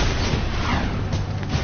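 Heavy explosion rumble from the video game Jak 2, a dense, continuous low boom that fills the whole moment with no voices over it.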